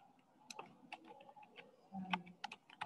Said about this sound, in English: I'm using my keyboard